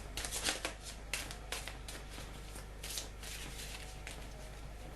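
Tarot cards being shuffled by hand, quick riffling bursts and soft slaps up close in a quiet room, irregular and continuous, with no talk.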